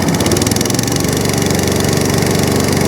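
A ride-on lawn mower engine runs loud and steady close by, its throttle held high with a continuous mechanical drone and no voices over it.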